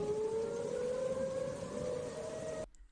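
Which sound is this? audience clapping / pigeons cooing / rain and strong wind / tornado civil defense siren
tornado civil defense siren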